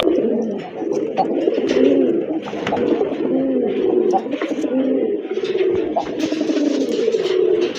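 Several pigeons, including Rajgolla pigeons at a pigeon sale, coo continuously in low, throaty rolling calls that overlap without pause, fairly close and steady in loudness.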